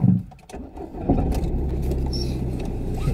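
Mk7 Ford Fiesta car pulling away for a drive, a steady low engine hum and road rumble building after a brief quieter moment, with faint rattles over the continuous drone.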